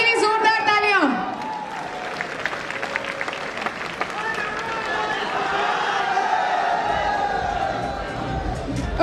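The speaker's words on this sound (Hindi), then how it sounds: "जोरदार तालियां।" A crowd at a network marketing business event breaks into loud, dense clapping that follows a brief voice and carries on for several seconds, with cheering and crowd noise mixed in.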